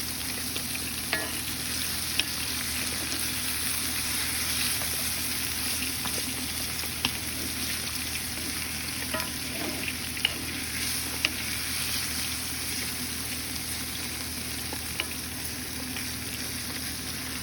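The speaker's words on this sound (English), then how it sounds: "I added the meat to the pan with the vegetables with the soy sauce and vinegar" Meat and vegetables with soy sauce and vinegar for lomo saltado sizzle steadily in a pan, with a constant frying hiss and occasional light stirring clicks, close and unbroken.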